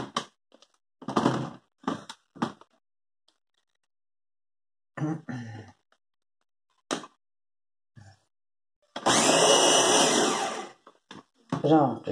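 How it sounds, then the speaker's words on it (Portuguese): A kitchen blender whirs loudly for about a second and a half as it purées carrots for carrot cake, set between stretches of a person talking and near-silence. "Então a gente já vai liquidificar"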